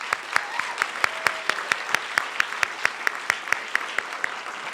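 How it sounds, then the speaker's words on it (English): Audience applauds at a journalism center's anniversary event, a moderate crowd of clapping with distinct, evenly spaced loud claps standing out nearby. "Let's give him a round of applause."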